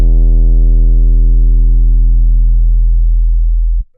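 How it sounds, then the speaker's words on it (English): A thick 808 bass note with an envelope, one long deep sustained tone that holds steady and then fades away before cutting off near the end, loud and alone. "I grabbed this thick 808 and then I put an envelope on it to make it sound like this."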